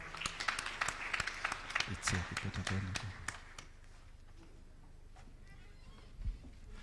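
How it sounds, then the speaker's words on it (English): Audience clapping for a council member at a national sports career fair and symposium in Nairobi, with scattered claps over roughly four seconds that thin out and fade, followed by a faint thump. "Let's clap for our council member"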